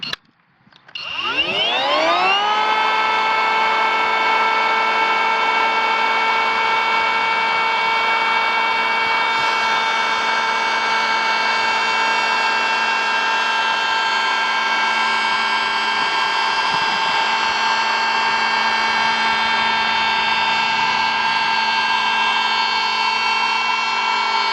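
A Kobalt 24-volt brushless handheld planer spins up and shaves a shallow cut along a 3/4-inch poplar board, a loud steady high whine with strong tonal harmonics holding evenly for over twenty seconds, no talk.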